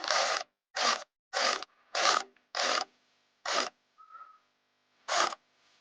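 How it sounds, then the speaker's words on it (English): A wind-back tool turns a front brake caliper piston back on a Jeep Patriot, giving seven short, evenly spaced rasping strokes, close and clear, with a faint thin squeak in one pause. "Go wind this caliper back real careful like"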